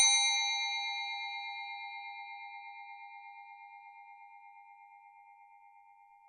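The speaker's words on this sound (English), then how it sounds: "First quarter chime." A single chime struck through the small 3-watt speaker of an ESP32 speaking clock with a DFPlayer Mini, marking the first quarter; one clear ding that rings on and slowly fades over several seconds, heard alone.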